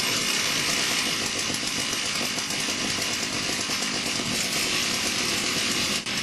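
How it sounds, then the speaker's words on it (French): Many chainsaw engines roar together in a dense, continuous buzzing snarl, loud and close, a massed two-stroke racket with no talking. "Le bruit rappelle plusieurs équipes de bûcherons démarrant leur tronçonneuse."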